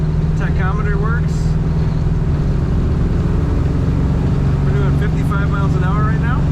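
A 1974 Plymouth Road Runner cruises at 55 mph, its engine a loud, steady low drone with road rumble filling the cabin, while someone talks over it.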